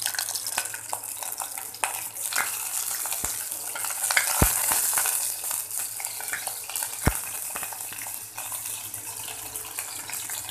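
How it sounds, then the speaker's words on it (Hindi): Curry leaves and four long cut green chillies hit hot oil in a pan, giving a steady close frying sizzle with a few sharp pops and crackles, no voices. "उसमें मैंने तेल डाला है और अभी मैं कड़ी पत्ता डाल रही हूँ और लंबी कटी हुई चार बड़ी मिर्ची"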